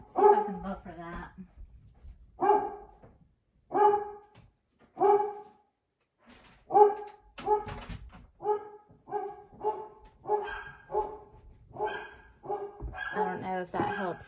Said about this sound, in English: you hear my little dog. He's trying to be a big dog.